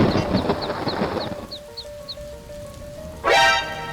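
A chick peeps in a heavy rainstorm: a quick, evenly spaced run of about eight high chirps over steady rain hiss, then a louder sweeping cry near the end.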